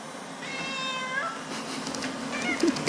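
An indoor house cat yowls loudly with long, drawn-out wailing meows that rise and bend in pitch, followed by shorter cries nearby in a quiet room.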